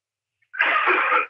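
A single short cough from a man sick with a respiratory virus, faint and off-mic in the background, heard alone after a brief silence.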